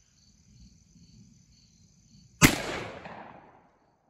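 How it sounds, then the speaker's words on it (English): A single sharp blast from a 12 gauge shotgun firing a Winchester slug outdoors over a chronograph, loud and close, with a short fading echo; crickets chirp faintly before the shot. "I have two rounds of the Winchester, and I think I'll just shoot those at 50."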